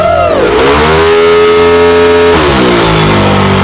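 Yamaha Aerox scooter engine revving hard on a dyno, a loud close whine that climbs, holds at high RPM, then drops and rises again, saturating the whole clip with no talk.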